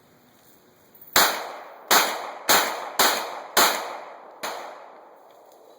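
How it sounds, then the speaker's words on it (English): Six sharp 9mm pistol shots fired at a slow, steady pace on an outdoor range, each a crisp crack with a short decaying echo, loud and clear over a quiet background. "we're going to do a relatively, I call it a slow fire group up high. 5 shots, 9mm, 103 feet, give or take."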